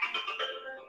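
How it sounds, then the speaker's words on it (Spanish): A phone ringtone chirps in a short warbling burst during a church sermon, close and fairly loud, heard alone without talk. "Perdón por el teléfono que está entrando como si fuera no sé qué."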